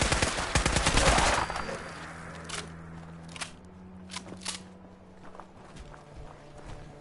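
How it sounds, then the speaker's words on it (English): Gunfire from a character shooting in Fallout 4: a loud rapid burst of shots at the start, then a few scattered sharp reports and footstep-like thumps over a low steady hum. "It's just deciding to shoot all around him."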